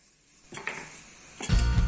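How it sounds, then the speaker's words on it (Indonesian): Chopped garlic sautéing in a small amount of frying oil, with a soft stir and clink near the start, then a loud, close sizzle that flares up and keeps hissing to the end. "Panaskan minyak goreng sedikit saja, lalu masukkan bawang putih cincang. Ini kita tumis hingga layu dan harum."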